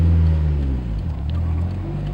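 A tuned car with a 2.4L engine cruises at low RPM, its steady, deep engine drone loud and close from start to finish.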